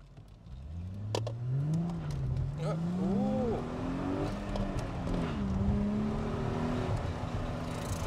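A Chrysler Crossfire with a six-speed manual revs as it accelerates, the engine note climbing and falling through gear changes under steady road noise, with a brief exclamation from someone inside.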